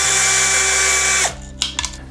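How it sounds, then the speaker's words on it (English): A cordless power drill unscrews a screw from the front light of an electric scooter: a loud, steady high whine runs for just over a second, then stops, followed by a few short clicking ratchet sounds. "Next step, remove this screw from your front light."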